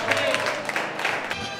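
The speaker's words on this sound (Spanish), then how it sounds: "Un aplauso, por favor." Audience applause at a ceremony honouring the best encebollado in Cuenca, a brief burst of clapping heard up close with voices over it.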